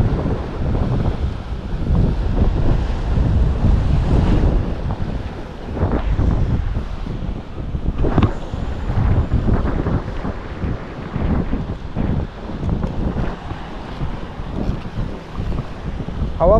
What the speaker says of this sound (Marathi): हवा पण खूप आहे.